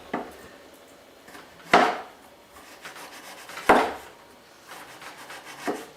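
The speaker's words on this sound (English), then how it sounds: "Sometimes you could even take some of the ginger root and slice it very" A knife slices ginger root very thinly on a cutting board, making three or four separate, soft chopping taps spaced a couple of seconds apart, close and quiet with no talk.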